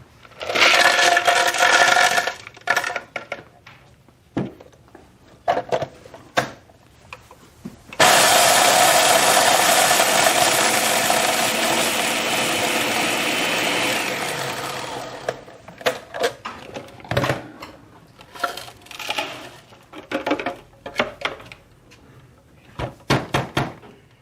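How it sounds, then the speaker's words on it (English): Old candy canes being ground in a machine, a loud continuous whirring grind lasting about seven seconds, framed by clattering knocks and thumps before and after. "we'll take these candy canes that were in a box over there, probably since Christmas last year, and we'll just grind them up real quick."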